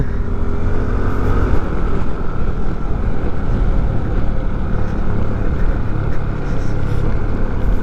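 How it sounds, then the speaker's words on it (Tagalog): A motorcycle engine labours loudly and steadily up a steep climb near the sea in Lobo, Batangas, a constant droning roar with wind rumble and no clear pauses. "Sarap magmotor dito."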